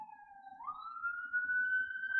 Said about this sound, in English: Sirens on my end.